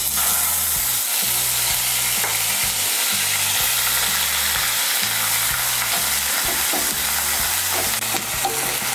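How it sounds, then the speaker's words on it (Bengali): Onion paste sizzles steadily in hot oil for a Bengali doi katla, a yogurt curry of katla fish, with a continuous loud frying hiss and a repeating low rhythmic scrape of stirring throughout, no voices. "পেঁয়াজ বাটাটাকে তেলের মধ্যে দিয়ে হালকা একটু ভেজে নেব।"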